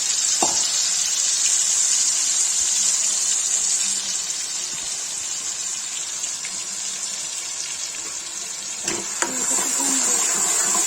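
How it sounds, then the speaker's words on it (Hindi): Ginger and garlic sizzling in hot oil in a pan beside paneer, a loud steady hiss that stays fairly even, with a soft clatter partway through and no talking. "ये पनीर है, ये तेल है, और इसमें अदरक लहसुन डालेंगे।"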